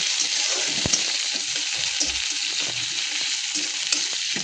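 Onions sizzle steadily in hot oil in a pan, the frying set for an Odia poi chingudi curry of prawns and Malabar spinach; a continuous close, bright hiss with occasional stirring scrapes and clinks, no talking.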